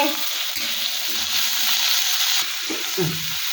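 Crushed garlic and green chillies sizzle steadily in a hot pan, a continuous bright frying hiss with a few brief stirring scrapes near the end, close and fairly loud with no talk.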